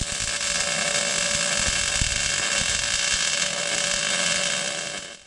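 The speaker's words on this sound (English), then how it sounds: "You can see here when you start welding" MIG welding with an ArcCaptain welder: a steady, close crackling arc hiss with a constant buzzing tone, holding evenly for several seconds before tapering off.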